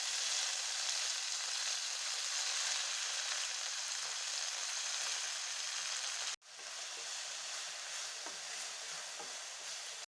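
Cumin, mustard seeds and gongura leaves sizzle and fry steadily in a hot pan for gongura chutney, a dense continuous crackle with a brief break partway through, no talking.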